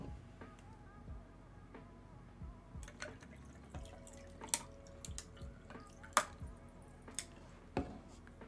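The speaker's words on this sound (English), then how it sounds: "Gonna add some water." Water poured over a bunch of ice in a glass, with light trickling and drips, scattered clinks of ice, and a few sharp taps against the glass, all fairly quiet at close range.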